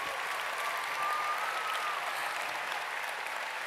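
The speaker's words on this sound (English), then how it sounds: "let's give a round of applause just for the dancing from the agents last night." Steady applause from the MINECON 2015 closing ceremony audience, a dense even patter of many hands clapping throughout, with a faint whistle-like tone briefly above it.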